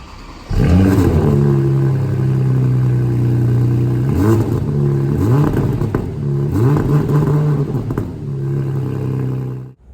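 A Porsche Panamera 4S Sport Turismo engine idles with a deep rumble, then revs sharply several times in quick bursts before settling back, loud and close throughout.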